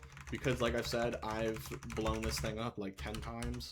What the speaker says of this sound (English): you can hear my keyboard clicking in the background